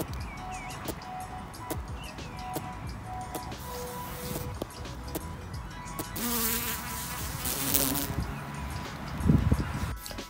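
Low buzzing of carpenter bees drifts in and out against outdoor vegetable-garden background noise in late February, with a few louder passes near the end.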